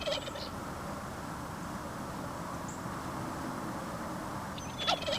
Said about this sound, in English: In the early dawn, before the sun rises, the gobblers begin to gobble while still in the roost high above the forest floor.